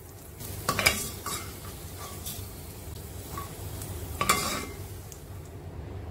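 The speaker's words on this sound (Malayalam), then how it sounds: "അതിലേക്ക് കുറച്ച് കിസ്മിസ് ചേർത്ത് കൊടുക്കാം. രണ്ടും മൂപ്പിച്ച് കോരിയെടുക്കാം." Cashews and raisins fry in ghee in a pan, a steady soft sizzle under repeated scraping stirs, with two louder clusters of spoon-on-pan strokes; no voices.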